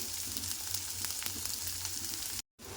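Onions soften and fry in a pan for egg puff filling, giving a steady close hiss with faint crackles throughout and a brief cut near the end.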